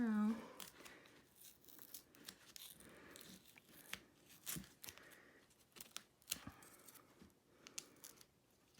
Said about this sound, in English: And then we need to take off some tape.